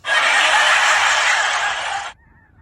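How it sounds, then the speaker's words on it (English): A dense wall of many snow geese calling at once in Bernardo, New Mexico, a loud continuous honking clamor that stops abruptly, leaving faint distant cries. "So these over here are snow geese."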